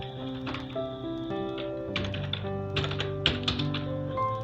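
Keys clatter in quick, uneven bursts as text is typed on a computer keyboard, close and clear over a steady tonal background with no talking.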